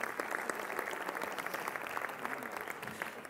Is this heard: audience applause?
yes